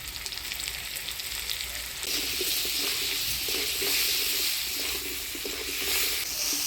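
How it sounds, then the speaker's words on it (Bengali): Potatoes with turmeric and salt sizzle and crackle steadily in hot oil, close up, with occasional stirring scrapes and no talking. "হলুদ লবণ দিয়ে আলুটা বেশ ভাজা ভাজা করে নিলাম"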